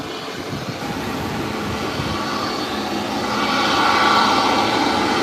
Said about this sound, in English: United Airlines coming into park.